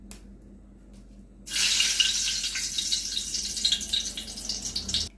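Dried red chillies drop into hot mustard oil in a wok and burst into a loud, steady crackling sizzle after a quiet start, continuing with sputtering pops to the end.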